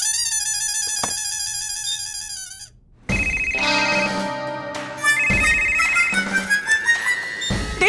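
A telephone ringtone chimes loudly in a repeated melodic pattern, breaks off briefly, then resumes as a brighter, busier electronic melody with shifting tones.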